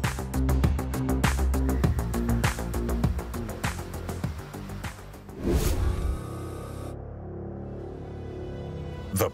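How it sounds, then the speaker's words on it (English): A Porsche Taycan Turbo S electric sports car pulls away from the factory in Zuffenhausen with a rising electric whir amid clicking and mechanical sounds, ending in a quieter hum. "The Taycan then sets off on its way."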